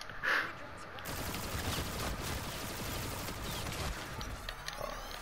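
Rapid gunfire from a shooter video game, a continuous rattling barrage at moderate loudness with a brief sharper burst at the start, no voices over it.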